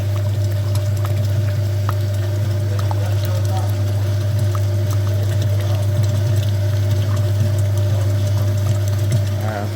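Water flushing through the coolant system and front radiator of a 2.0 TFSI Audi Q5, a steady loud hum and rushing flow with a strong low drone, continuous and close.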